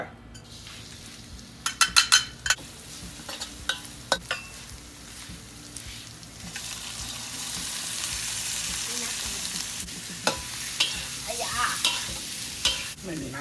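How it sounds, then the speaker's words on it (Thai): Shrimp with holy basil stir-fried in a wok with soy sauce and a little sugar: sharp metal spatula clanks against the pan, then a building sizzle with further scraping and tapping strokes as the frying continues. "เรามาผัดกระเพรากุ้งกันไปเลย"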